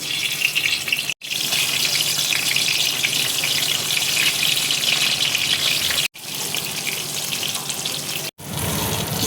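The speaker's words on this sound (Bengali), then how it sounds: "কড়াইয়ে দেখো তেল দিয়েছি, তেল দেখো গরম হয়ে গেছে। এবার আমি বেগুনগুলো এক এক করে তেলের মধ্যে দিয়ে দেবো।" Brinjal pieces fry in hot mustard oil in a wok, giving a loud, steady, close sizzle that runs almost without a break, with a few sharp momentary cuts.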